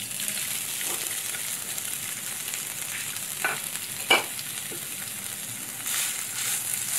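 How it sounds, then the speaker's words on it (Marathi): Freshly grated coconut fries in ghee in a pan, giving a steady soft sizzle. A spoon stirs and scrapes it with occasional light knocks against the metal. "आणि आता ओलं खोबरं टाकणार आहे त्याच्यामध्ये।"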